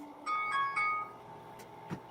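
A phone ringtone plays three quick chiming bursts at moderate volume in a quiet room, followed by a couple of faint knocks.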